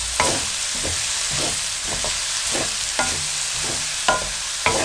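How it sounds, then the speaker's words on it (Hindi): Egg and potato bhujia with onion frying over high heat, a constant loud sizzle broken by repeated scraping strokes of a spoon stirring in the pan, close up and without speech. "चम्मच आप मुसलसल चलाते रहें ताकि ये चिपके नहीं।"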